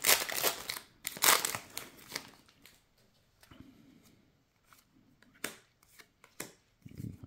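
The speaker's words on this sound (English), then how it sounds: "I do like to sort the spellbook and atlas cards." Sorcery Beta trading cards sorted by hand, heard up close as quiet bursts of crinkly flicking and sliding card stock, separated by short pauses.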